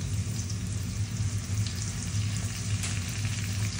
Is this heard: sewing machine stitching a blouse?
no